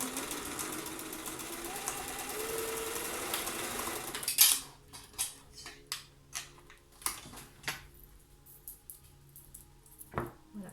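A home sewing machine runs steadily through fabric for about four seconds, a dense continuous whir, then stops; a few sharp clicks and taps of handling the work follow, turning the piece to sew the other side of a seam line.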